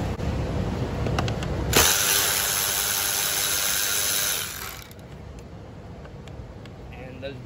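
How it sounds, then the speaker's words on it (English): An electric ratchet loosens 8mm bolts on a crankcase filter cover of a 6.7L PowerStroke engine, a steady whirring buzz lasting about three seconds, with clicks before and quieter handling noise after; a voice talks. "I'm gonna use an electric ratchet for some of them here."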